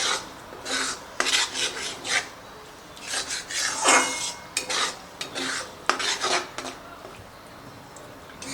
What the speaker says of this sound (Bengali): ওই জলটা দিয়ে আবার আমি মশলাটাকে আরেকটু কষিয়ে নিয়েছি